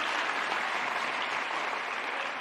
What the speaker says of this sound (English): I want us to give these comrades a good round of applause